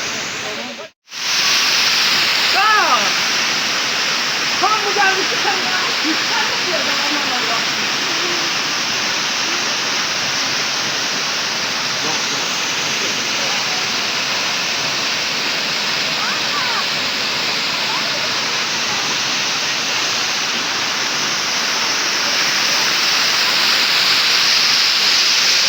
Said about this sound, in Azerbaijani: Məndən aşağıda isə bir bu qayanın dalında bir şəlalə var.